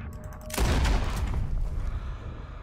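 Gunfire in Red Dead Redemption 2: one sudden, loud volley bursts in after a quiet moment, then rolls on into a dense rumbling decay that slowly fades.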